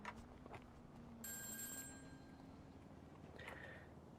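Payphone ringing in GTA, a bright trilling ring that bursts in for about a second, then a shorter ring a couple of seconds later, heard over a low steady game hum.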